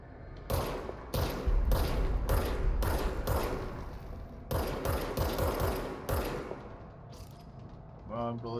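Rapid bursts of video game gunfire, several sustained volleys of quick shots separated by short pauses, loud and close, with a voice speaking briefly at the end.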